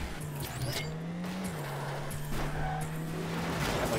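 A rocket car in Rocket League holds a steady engine hum with small pitch shifts, alongside scattered game sounds.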